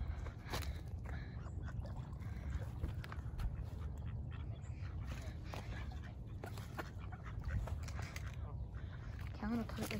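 Ducks quack on open water as they swim toward people feeding them, heard close among steady water and outdoor noise with people talking over them.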